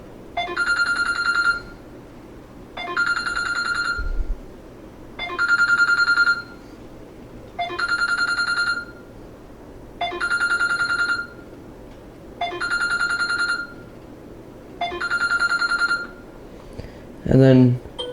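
Basic Bell ringtone of a Samsung Galaxy J3 Orbit phone: a shrill electronic bell ring pulsing in seven even bursts roughly every two and a half seconds, close and steady, with a brief thump at the end.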